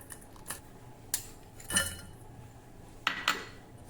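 A shallow metal vessel is handled while a cup of jaggery is measured into it, giving a few sharp metallic clinks and knocks spaced out over quiet background.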